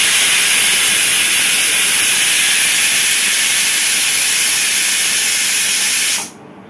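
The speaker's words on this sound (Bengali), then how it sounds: "এবার কিন্তু প্রেসারে বসিয়ে দেওয়া হয়েছে সিটি পড়ার জন্য।" A pressure cooker vents steam in a loud, continuous hiss while cooking a small batch of prasad. The hiss holds steady for several seconds and then cuts off abruptly.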